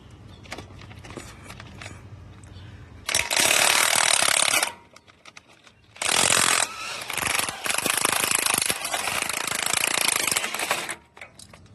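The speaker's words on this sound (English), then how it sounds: "Now it's time to get the bolts off the back of the hub." Power tool loosening bolts on the back of a car wheel hub during a high-steer teardown, two loud sustained bursts of a couple of seconds each, then a longer run, close up.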